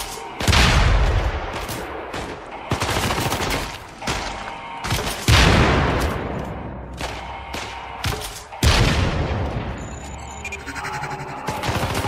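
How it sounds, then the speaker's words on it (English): A TAR assault rifle with underslung grenade launcher fires in the video game Syndicate, loud close bursts of automatic fire and heavy booming blasts in several long volleys, each trailing into echoing decay. "This is the TAR assault rifle with underslung grenade launcher."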